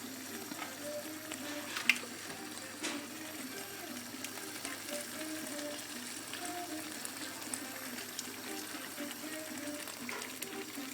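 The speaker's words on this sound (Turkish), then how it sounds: "Kaynamış su koyuyoruz." Boiled water poured into a stew pot for a Turkish güveç, a steady hiss and gushing splash with sizzling underneath, continuous and close, no voices.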